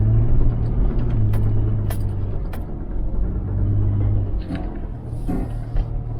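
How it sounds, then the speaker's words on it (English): A 4x4 vehicle crawls across a steep side slope off-road, its engine a steady low rumble up close with occasional knocks and rattles from the body and terrain. "So I'm driving along and I have to drive a side slope."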